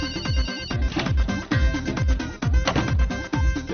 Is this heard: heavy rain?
no